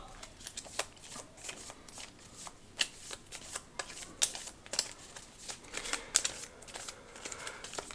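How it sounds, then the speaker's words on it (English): Playing cards from the Aeons End board game are shuffled by hand in a quiet room, a rapid, close run of crisp riffling and flicking bursts repeating throughout with no talk. "I don't know how else to shuffle"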